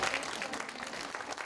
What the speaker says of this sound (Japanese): 会場からは温かな拍手が送られました